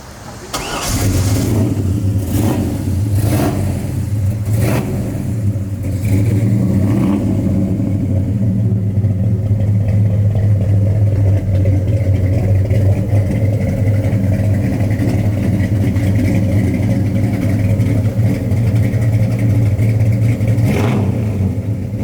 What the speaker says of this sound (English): it's just a super clean car, and it sounds like a monster